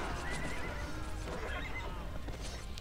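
Horses neigh and whinny in the Cossacks 2: Battle for Europe video game, several overlapping calls over a dense battlefield bed of hooves and distant clatter.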